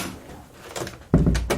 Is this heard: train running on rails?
no